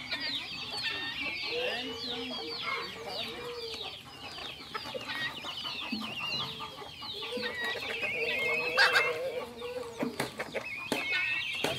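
Chickens and chicks cluck and peep busily around a rural smallholding farmyard, a continuous chorus of close calls with occasional louder squawks and faint background voices.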